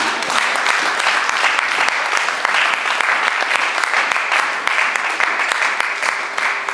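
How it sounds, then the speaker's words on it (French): A church congregation applauding for the word of God, sustained, even clapping from a sizable crowd that holds steady from start to finish with no break. "Est-ce qu'on peut acclamer pour la parole de Dieu?"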